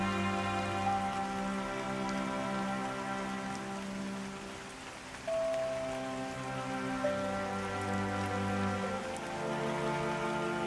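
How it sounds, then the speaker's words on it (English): Rain pours steadily over a lush New Hanover forest in Red Dead Redemption 2, a constant close hiss of drops on leaves and ground, mixed with sustained musical tones and no voices. "It rains almost every day."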